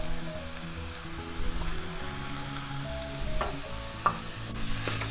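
A grated coconut, potato and sugar mixture is stirred in a pan over low heat, with soft scraping and shuffling strokes against the pan and a gentle sizzle beneath, a few louder scrapes standing out near the end.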